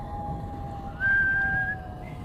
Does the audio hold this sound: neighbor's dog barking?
no